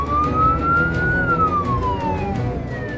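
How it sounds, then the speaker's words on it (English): A paramedic ambulance runs lights and sirens on an urgent call, its wailing siren rising and then falling in pitch, loud and steady over road rumble with no talk. "Yvonne is about to witness a pressure, lights and sirens Code 1 job"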